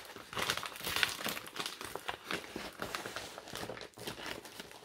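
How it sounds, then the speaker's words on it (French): An envelope is torn open and its paper crinkles and rustles continuously at close range, fairly soft and alone, with no talking. "je vais venir ouvrir tout de suite mon enveloppe"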